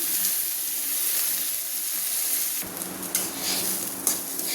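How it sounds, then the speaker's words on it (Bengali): Raw rice being lightly fried and stirred in a pan for mutton pulao, giving a steady close sizzle with soft scraping stir sounds and brief spatters. "হালকা ভাজবো, খুব একটা বেশি ভাজবো না চালটাকে আমি।"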